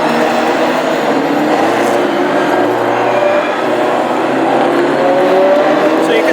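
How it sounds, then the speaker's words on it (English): Classic hot rod race cars lapping a short oval at Hednesford, a loud continuous roar of several engines blended together, close and steady throughout with faint commentary underneath. "racing these old school cars"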